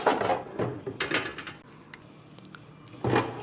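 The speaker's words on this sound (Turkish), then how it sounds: "Bu şekilde 200 derece 8 dakikaya ayarlıyorum." Clicks and knocks from turning the dial of a Philips air fryer to set 200 degrees and 8 minutes, several short close mechanical taps with quiet gaps between them, no talking.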